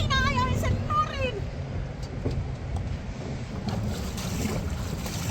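Strong wind roars steadily into the microphone aboard a small sailboat in rough weather off the Canary Islands, with water and hull noise beneath and a voice talking briefly at the start.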